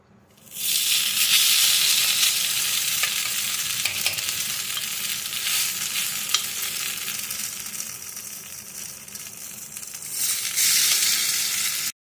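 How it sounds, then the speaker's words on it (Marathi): Sabudana appe batter frying in oil in an appe pan, a loud bright sizzle that starts suddenly and holds steady, easing slightly before swelling again and cutting off, with no talk. "सगळ्या याच्यामध्ये तेल टाकलं आहे त्याच्यामध्ये याच्यामध्ये आप्याचं वाटर बॅटर आहे ते टाकू आपण"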